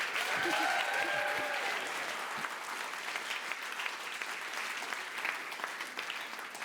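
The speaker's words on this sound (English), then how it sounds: "Round of applause for Elena." An audience gives a round of applause for a woman named Elena, a dense, even spread of clapping that carries steadily throughout. A brief voice rises near the start.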